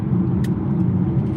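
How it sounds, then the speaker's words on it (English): Cabin noise inside a Volvo XC40 Recharge Twin Ultimate electric car cruising on a highway: a steady low road and tire rumble, moderately loud and continuous, with no speech. "this car seems quieter than the Rivian to me"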